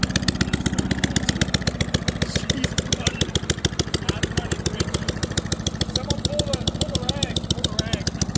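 A lawn mower engine being tortured runs hard and revs loudly throughout, with a rapid, steady firing rhythm close to the microphone, while faint voices talk underneath.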